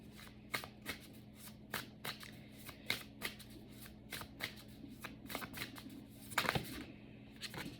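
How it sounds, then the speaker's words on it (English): Oracle cards from the 42 Ideals of Ma'at deck shuffled by hand, a steady run of crisp riffling bursts close up over a low background hum, ending in a louder flurry. "I'm going to pull a card from the 42 Ideals of Ma'at"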